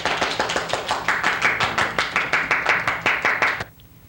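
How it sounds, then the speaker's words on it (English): A small group clapping a round of applause, about twenty quick, even claps in a steady rhythm, close and crisp, stopping abruptly at the end. "Let's give ourselves a round of applause."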